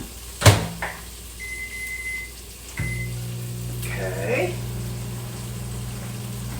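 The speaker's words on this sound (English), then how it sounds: "I'm gonna microwave this for a few minutes here." A kitchen microwave oven is shut with a sharp thump, then starts up and settles into a low, steady hum that continues to the end.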